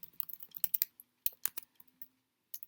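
Typing on a computer keyboard, with bursts of quick, close clicks and short pauses between keystrokes.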